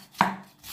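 A knife comes down once on purple cabbage being sliced thinly on a board, a single close, crisp chop with no voices.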